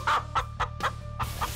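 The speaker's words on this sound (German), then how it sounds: "Hier wohnen unsere Hühner" Farmyard chickens cluck in short, repeated bursts close by, several separate calls spaced irregularly over a faint background hum.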